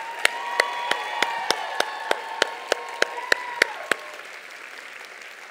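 A keynote audience at a motivational summit claps and cheers loudly, with a dozen sharp rhythmic claps ringing out over a crowd roar that fades toward the end.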